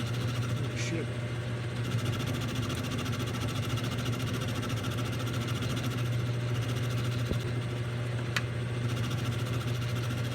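A milling machine cutting steel plate gives a steady, loud droning hum with a constant mechanical whir that runs unbroken for the whole stretch.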